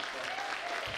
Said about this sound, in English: Come on, big clap, come on everyone!